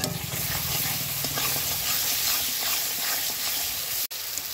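Spice paste being stir-fried and scraped in a pan with the stems of ghyatkol (a taro-like aroid) added, producing a steady close sizzle with repeated stirring scrapes throughout, and a brief dropout near the end.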